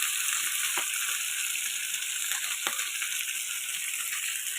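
Fish frying in oil in a small non-stick wok, a steady loud hiss and crackle running throughout, with a few sharper pops breaking through.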